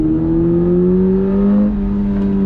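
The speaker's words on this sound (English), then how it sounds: "Real intake noise, real exhaust noise." A 2022 Subaru BRZ sports car accelerating hard in second gear on throttle, real intake and exhaust noise, a steady loud engine drone rising smoothly in pitch, close and continuous with no talk.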